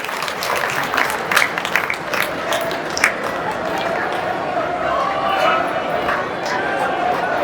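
Sustained crowd applause at an outdoor farmers' rally, a dense wash of clapping with scattered louder claps and shouts, filling the whole stretch at steady volume.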